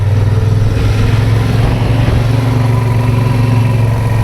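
A motorcycle rides a winding mountain road near San José del Pacífico, Oaxaca, Mexico, in cold, damp cloud, its engine droning loud and steady throughout with a low, constant hum and faint wind rush.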